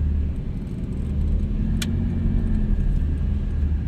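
A 2003 Suzuki Escudo SE416 with a slightly rough-running 1.6L engine, heard from the cabin while driving: a steady, loud low rumble and road drone continue throughout, with no talking.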